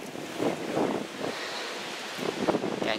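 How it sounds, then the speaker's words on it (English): Gusty wind blowing outdoors in the village of Hambleden, Buckinghamshire, buffeting the microphone in uneven surges with a broad rushing roar throughout. "Getting windy now and not that warm."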